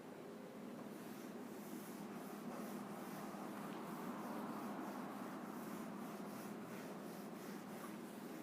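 A board eraser rubs steadily across a writing board, a continuous scratchy swishing with a faint rhythmic back-and-forth pulse, heard alone.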